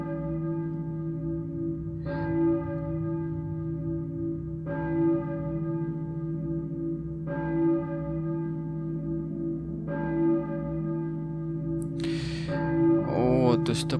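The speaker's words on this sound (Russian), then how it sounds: "я слышу, думаю, это церковный колокол," Church bell tolling in the 1999 PlayStation game Silent Hill, four slow evenly spaced strikes ringing out over a low steady drone, ending in a burst of harsher clanging.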